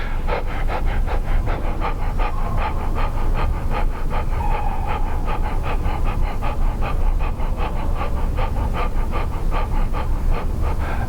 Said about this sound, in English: And then panting.